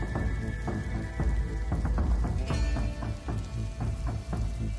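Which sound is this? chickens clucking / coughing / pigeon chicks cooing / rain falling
rain falling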